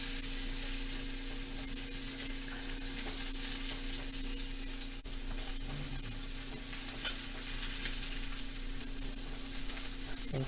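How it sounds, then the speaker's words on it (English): Pieces of country style beef ribs sizzle steadily while browning in a pan, a soft continuous frying hiss with occasional faint scrapes of a utensil pressing the meat, and no voices. "Pressing down lightly to just make sure everything gets nice contact and gets some nice browning."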